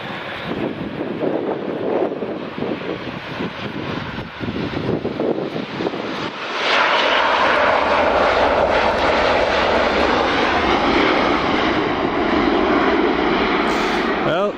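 A Ryanair airliner at Edinburgh Airport roars loudly as a jet engine, building into a sustained, broad rumble partway through, with wind buffeting the microphone.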